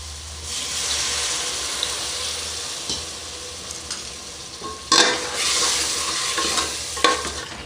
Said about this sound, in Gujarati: બધા મસાલાને બરાબર આપણે પકવી લઈશું